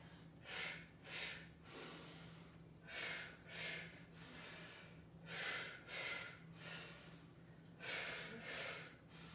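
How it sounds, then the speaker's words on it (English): Sharp percussive breaths puff out in short bursts during Pilates mat rotations on a foam roller, about nine quick exhales in rhythmic pairs, close and fairly soft over a faint background hum. "a little more dynamic with a percussive breath"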